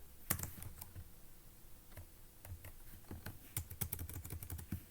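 Typing on a computer keyboard while writing Python code, a quiet run of irregular clicking keystrokes in short bursts with small pauses, close and alone without speech.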